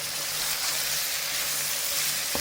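Meat fries with vinegar for achar gosht, giving a steady, close sizzle with an even hiss throughout. A single brief knock comes near the end.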